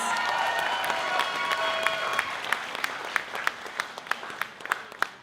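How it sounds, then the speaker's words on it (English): An audience at the Miss Earth New Zealand finals applauds the winners. Dense clapping fades into a thinning patter of individual claps toward the end. "should we do one big round of applause?"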